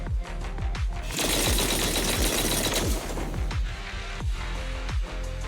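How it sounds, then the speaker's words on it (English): Heavy cannon fire in the Zenless Zone Zero video game: a dense barrage of booming blasts and rapid impacts fills the middle of the clip, framed by sharp repeated hits before and after, loud and close. "That was the sound of a heavy cannon?"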